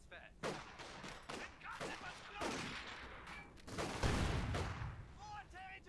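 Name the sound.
MG42 machine gun suppressing fire in Company of Heroes 2 video game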